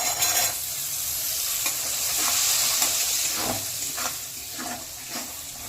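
Green peas added to sizzling spices in a pan for samosa filling, a loud, crackling fry with scraping stirs and soft clinks as the mixture is moved around.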